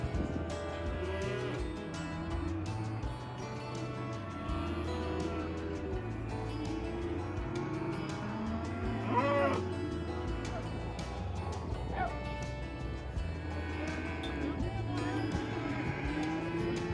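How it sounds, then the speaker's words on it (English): Cattle in pens at an Oklahoma City livestock yard, with several moos rising near and far over a busy, continuous background din of the yard, some other animal noise mixed in. "This is where the cattle get weighed."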